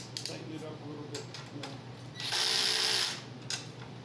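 A power drill on its lowest torque setting tightens a pin during dry-fitting of a scratch-built model aircraft elevator, giving one sustained whir of about a second amid light clicks and handling noise.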